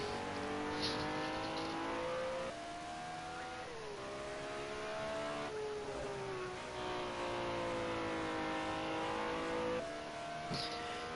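A BMW M1 Procar on its final qualifying lap at Road America in a sim racing series, the engine howling steadily with clear rising revs, brief dips at gear shifts and braking, heard close as if from onboard.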